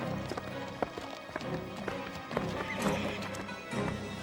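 A horse gallops with quick clip-clop hoofbeats and neighs in a dramatic period scene, with other sounds and voices faintly mixed underneath.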